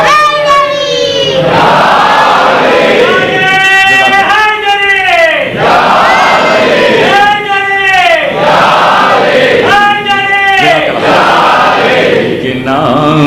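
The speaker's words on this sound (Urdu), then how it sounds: "اب لگاؤ نا نعرے دوستوں ہے نا" Crowd at a Shia majlis gathering chants religious slogans in loud, rhythmic call-and-response bursts, voices rising together in repeated waves roughly every few seconds, close and continuous throughout.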